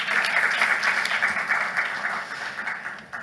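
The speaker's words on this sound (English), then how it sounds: "A big round of applause." Conference audience applauding a panelist at a philanthropy and public-private partnership panel, a dense even burst of clapping that holds steady and then fades slightly near the end, with no talk over it.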